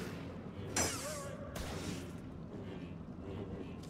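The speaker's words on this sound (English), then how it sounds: "He's just throwing bombs." A single loud blast from a bomb thrown in Star Wars Jedi Fallen Order, followed by a second thud and a low rumbling tail under game ambience.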